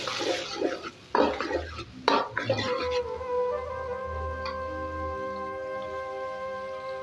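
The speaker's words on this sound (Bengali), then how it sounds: "শুধু পেঁয়াজটা দিতে হবে, বাদামি করে ভেজে নিতে হবে" Onions frying in a pan are stirred to brown, heard as a few rough scraping bursts over a soft sizzle, followed by a lingering tonal hum.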